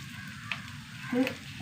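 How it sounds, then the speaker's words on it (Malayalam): Oil sizzles steadily in a pan close by as small mullan fish fry, a soft constant crackle with a couple of brief louder spits. "വറുത്ത് മുരിഞ്ഞു പോയി"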